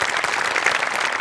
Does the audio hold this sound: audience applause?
yes